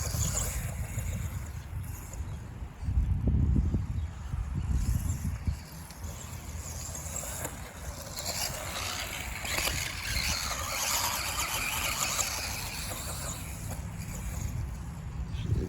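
A Feiyue FY01 RC buggy with a brushless motor upgrade, new tires and a suspension strap runs outdoors, giving a steady whirring, rumbling drive with louder surges around the middle and constant broadband wind-like rush throughout.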